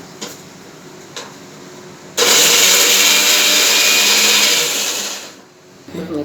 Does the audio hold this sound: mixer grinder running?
yes